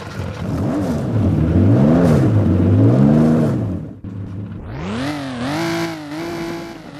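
A TVR car engine in the Roblox game Driving Empire fires up and revs, the pitch climbing and dipping through several throttle blips, then a higher-pitched rev sweeps up and holds.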